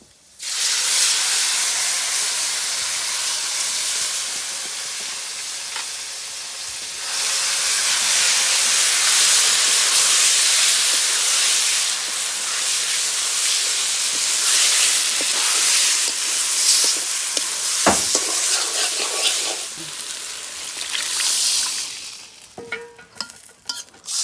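Fish frying in oil tempered with black cumin, a loud, close, continuous hiss and crackle that swells partway through, then fades toward the end with a few clinks.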